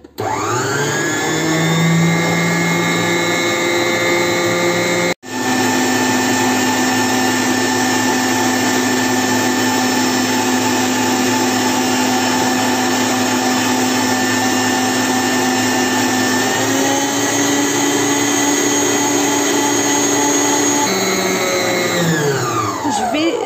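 An electric mixer fitted with a dough hook whirs loudly at high speed in a kitchen, a steady close drone with a brief cut near the start before resuming, then winding down at the end.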